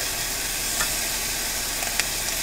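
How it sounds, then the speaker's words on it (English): Pasta sizzles steadily in a hot pan over a camp stove, a constant bright hiss with a few faint scrapes from stirring, and no voices. "I wanna show you guys me like stirring it"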